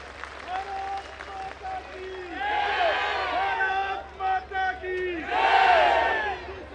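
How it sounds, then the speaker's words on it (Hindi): Crowd at a political rally in Delhi breaks into loud applause and cheering, with shouts rising in two swells over a steady clapping roar. "कृपया उनके सम्मान में एक बार जोरदार तालियां बजाएं।"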